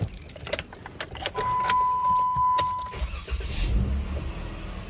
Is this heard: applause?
no